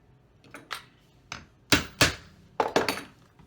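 Several sharp hammer whacks on a punch or chisel cutting a slit in leather for a sporran, struck in separate clusters of two or three close, loud knocks with brief pauses between.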